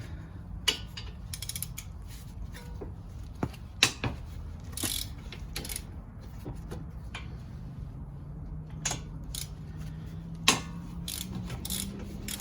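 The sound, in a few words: half-inch ratchet loosening brake caliper bracket bolts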